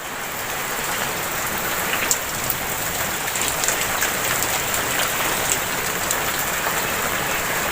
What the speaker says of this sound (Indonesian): posisi di kandang saya ini lagi hujan ya. Ini posisi hujan